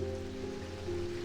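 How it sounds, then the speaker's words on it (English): Rain falling in the video game Strange Antiquities, a steady faint patter under a low droning hum, brief and unbroken. "The rain seems to be really loud."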